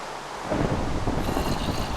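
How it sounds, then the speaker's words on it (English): A thunderstorm in Minecraft at night: a low rumble of thunder swells in after a quiet start, with rain hiss and a soft rushing wash continuing to the end. "And now it's a thunderstorm"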